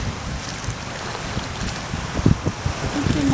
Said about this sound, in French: Première difficulté, c'est le vent.